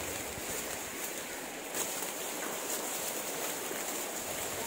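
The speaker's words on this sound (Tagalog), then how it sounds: "running water po ito" Running water of a rural river where people wash clothes and bathe, a steady broadband rush that stays even and continuous, close and moderately loud, with no talk over it.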